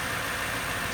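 A 2008 Toyota Sequoia SR5 4x4 with a 5.7L V8 idles smoothly, giving a steady, even engine hum heard close and alone for a brief moment.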